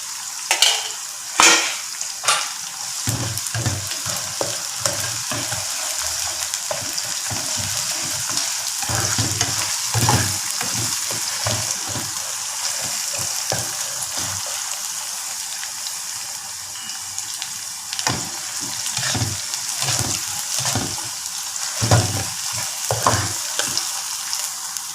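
Ginger, garlic and green chillies fry in a pan with a steady close sizzle, broken by frequent stirring scrapes and clatters throughout; no one speaks.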